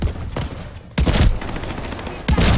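Shotgun blasts in the video game Call of Duty Vanguard, three loud sharp shots spaced about a second apart, close and punchy with a short decaying tail after each.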